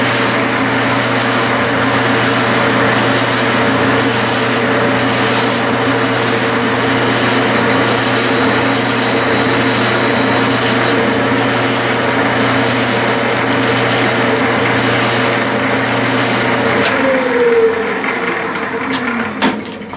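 A 5/16-18 plug tap is turned by hand to cut threads, making a rhythmic, repeated scraping rub over a steady low hum that fades out near the end.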